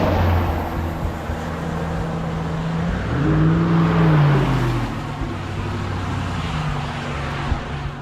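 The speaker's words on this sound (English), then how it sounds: "Loud cars tonight." Cars pass on a road at night, one loud vehicle swelling and fading with a rising then falling engine drone amid steady traffic rumble, heard from the roadside without talk.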